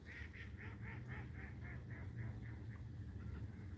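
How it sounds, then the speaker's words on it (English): Ducks quacking at night, a quick run of about a dozen evenly spaced nasal calls that slow and fade toward the end, faint against a low background hum. "Hear all these ducks?"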